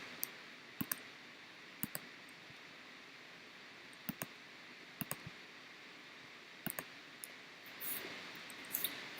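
A computer mouse clicks sharply several times, single and double clicks spaced irregularly, close and quiet against faint room hiss, with a soft rustle toward the end.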